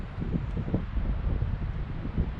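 Wind gusts across an outdoor camp in the Pacific Northwest during a heatwave, giving a steady low buffeting rumble on the microphone with faint rustling and no voices.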